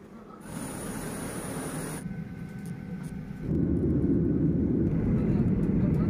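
Steady, broad cabin roar inside an airliner on a flight to Jakarta, with the engine rumble jumping to a deeper, louder drone partway through.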